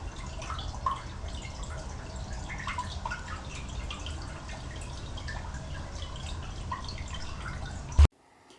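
Water running steadily from backed-up manholes along a sewer line, a continuous broadband rush with dripping and splashing close by, then an abrupt cutoff near the end.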